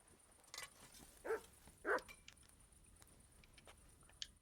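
A dog in Kingdom Come Deliverance II gives two short, faint barks a fraction of a second apart, quiet against a soft background.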